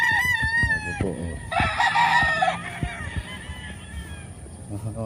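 A rooster on a breeding farm crows loudly and close at the start, and a second long crow follows mid-clip amid other fowl calls and clucking, with someone talking intermittently.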